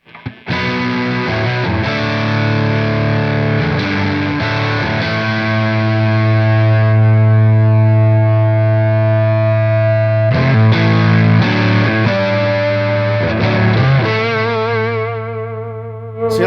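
Electric guitar with heavy distortion and chorus-like shimmer, played through a Superplex amp into a 1x12 cabinet with a high-wattage speaker: sustained chords ringing loud with brief breaks between phrases, no talking.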